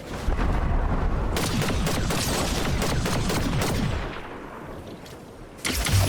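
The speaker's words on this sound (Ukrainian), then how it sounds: "Там іде у нас стрілянина" Rapid bursts of gunfire and heavy booms in Fortnite crowd together in a dense, continuous barrage, easing slightly before another loud burst.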